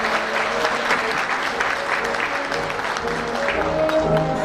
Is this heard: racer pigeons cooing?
no